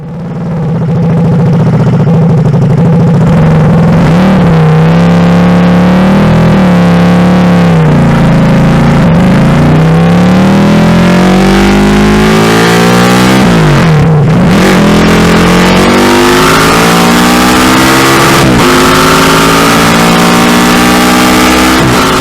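A supercharged Moto Morini land speed racing motorcycle engine roars continuously, revs rising and falling through gear changes, harsh and close throughout.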